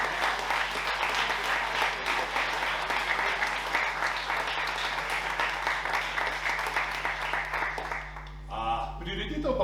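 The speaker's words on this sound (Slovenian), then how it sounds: "Dajmo za en aplavz vse, kar sem jih naštel." An audience at a book festival event claps in sustained, dense applause that fades near the end as a voice begins speaking.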